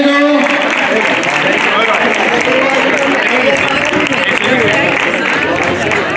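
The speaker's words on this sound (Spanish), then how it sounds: "¡Un aplauso para ellos!" A crowd at the race awards in Dos Torres, Córdoba, claps loudly and continuously for the finishers, dense applause mixed with cheering voices and babble, sustained at high level from start to end.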